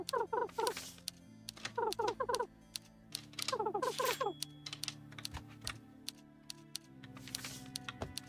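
A character types on a keyboard in the video game Bear & Breakfast: quick bursts of light clicking keystrokes, spaced by short pauses, over a soft steady background tune.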